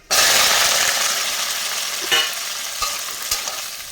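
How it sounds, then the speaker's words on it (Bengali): Potatoes, pointed gourd, squash and drumstick stems dropped into hot oil tempered with five-spice and dried chillies: a sudden loud sizzle that slowly fades, with a few stirring clinks. "এবার আমি দিয়ে দেবো সবজি।"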